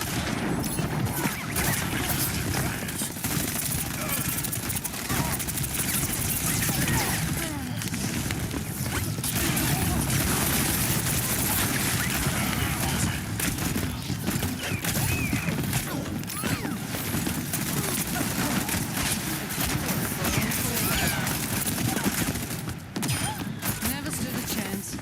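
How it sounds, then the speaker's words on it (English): An Overwatch 2 rocket barrage keeps up a dense, continuous volley of explosive gunfire-like blasts and mechanical clatter, loud and steady through the whole stretch of combat, with voices now and then. "Rocket barrage incoming!"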